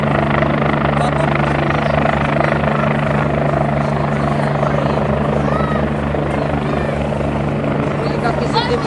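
A helicopter flies overhead, its steady rotor drone and engine whine filling the air loud and continuous, with faint voices of people nearby underneath.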